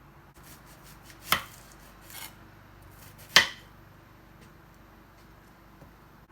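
Two sharp knife chops on a cutting board, about two seconds apart, close and fairly loud, with quiet kitchen background between them.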